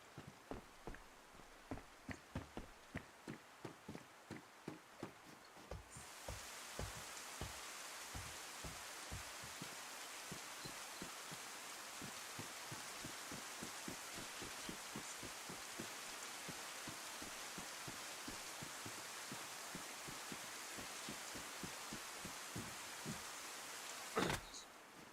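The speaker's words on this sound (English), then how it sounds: "It is raining outside, if that means anything" Steady rain falls outside in a DayZ game setting, a dense even hiss with sharp drops tapping close by throughout, alone with no talk.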